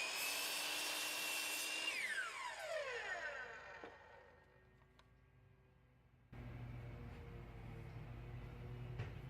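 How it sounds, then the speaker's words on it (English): A drill press drilling a pen blank: the motor whines loudly, then spins down with a falling pitch, followed by a quieter steady mechanical hum. "I'm going to do it in small sections because my drill press is not so big"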